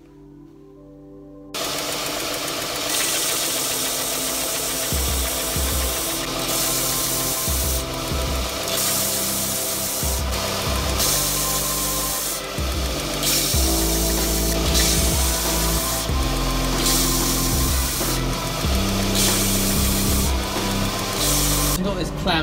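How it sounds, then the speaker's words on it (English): Power sander grinding wooden pen blanks, a loud continuous rough whir with repeated surges and dips as pieces are pressed against it, close up with no talk. "we'll put these through the sander and then we'll get these glued up"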